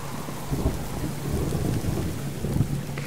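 Steady rain pours with soft low thunder rumbling through it during a thunderstorm in the game Subsistence, fairly quiet and continuous, with no talking.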